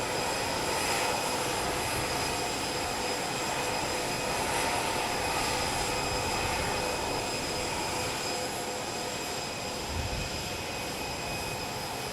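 Air Force One, a presidential jet, sits at Palm Beach International Airport with its engines running, a steady loud broadband whine and roar with high tonal hum that holds throughout, no voices.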